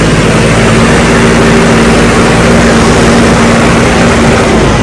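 A 15 hp tractor engine runs under load, a loud, steady, close-up drone with a constant low hum and no pauses or talk.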